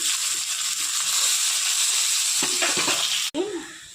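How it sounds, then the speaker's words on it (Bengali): Onions and spices such as turmeric, chili, cumin and coriander fry in a pan with a loud, close, continuous sizzle and scraping stirs, ending in an abrupt clatter and a brief faint voice. "এটা মশলার জন্য পেঁয়াজ দিয়ে দিচ্ছি।"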